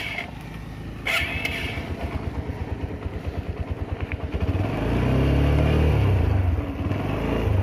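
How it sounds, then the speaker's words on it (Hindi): TVS Apache RTR 160 motorcycle starting up, with a sharp starter burst, then a close, rhythmic idle thump that swells into a louder, deeper revving hum toward the end. "अभी मैं बाइक स्टार्ट कर लेता हूँ।"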